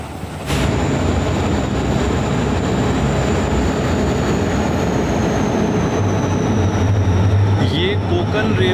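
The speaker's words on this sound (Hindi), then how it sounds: "अब हमारी ट्रेन कार्गो डे टनल में प्रवेश कर चुकी है।" Express train rumbling through a tunnel on the Konkan Railway, a loud steady roar of wheels and carriages with a sustained high whine above, continuous throughout.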